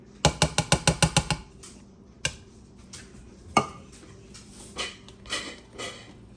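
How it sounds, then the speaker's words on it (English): A whisk beats tamale pie batter with butter in a bowl: a rapid burst of about eight sharp, close clicks, followed by a few sparse, softer scrapes and taps. "I need to whisk all that together"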